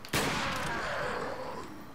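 A gunshot in the Resident Evil 4 video game, one sharp loud blast followed by a long ringing, decaying tail.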